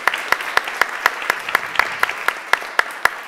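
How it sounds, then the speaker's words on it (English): An audience at an evening panel on VR careers claps for a few seconds, sharp evenly spaced claps forming a fairly quick, steady round of applause. "We should have a round of applause for Drew, too."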